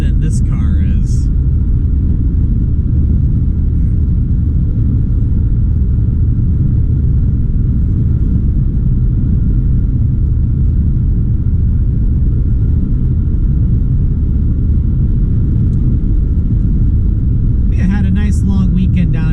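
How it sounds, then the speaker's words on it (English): Steady, loud road rumble fills a Honda Civic cabin at highway speed on Interstate 75, a constant broadband drone with brief faint bursts of voice near the start and end. "I'm driving just a Honda Civic."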